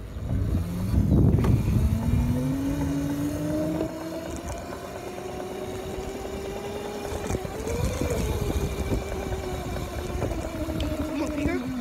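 Dirt bike racing in GTA, a steady whining engine that rises and falls in pitch as it revs, loud and continuous throughout, with a voice talking over it near the start.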